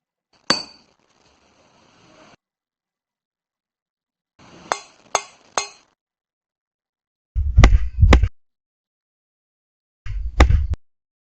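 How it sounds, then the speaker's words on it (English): Metal objects are tapped with a hard material in separate sharp clinks, first a single ringing strike and then quick clusters, some with heavier knocking thuds underneath. The strikes are close and clear, with silence between them. "The ability of metals to produce sound when tapped with a hard material is known as sonority"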